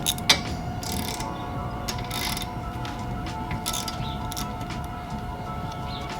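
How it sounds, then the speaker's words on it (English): A 3/8 ratchet loosens bolts under the hood of a 2010-2015 Toyota Prius. Rapid pawl clicking repeats in short bursts over low mechanical background noise, close by, with no talking. "You get your ratchet 3/8."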